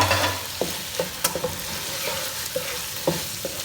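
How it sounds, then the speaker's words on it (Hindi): Minced meat (keema) frying on high flame with capsicum and onion, a steady sizzle broken by repeated spatula scrapes and taps against the pan, close and loud. "हाई फ्लेम पर इसकी भुनाई करेंगे"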